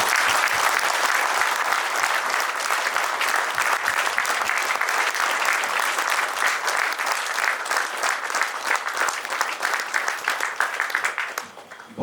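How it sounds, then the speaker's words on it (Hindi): A large crowd at a company's 25th anniversary celebration breaks into loud, sustained clapping that stays dense for most of the stretch, then fades away near the end. "इन सब के लिए एक बार जोरदार ताली।"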